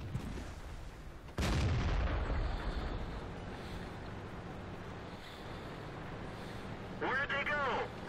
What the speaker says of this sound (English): Gotta move to avoid artillery.